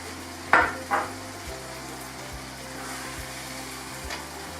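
Pakistani fish curry frying in a pan sizzles steadily and close, with a couple of sharp knocks from a spoon stirring at first, then a low continuous bubbling hiss.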